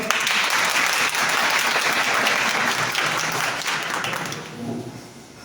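Audience at a business event in Tekirdağ applauding a speaker taking the stage, a loud sustained wash of many hands clapping that fades toward the end, with faint voices under it.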